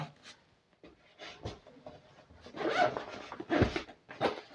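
A small carry pouch has its zipper pulled open in several rasping bursts, close and fairly loud, with brief rustling handling between pulls and no talk.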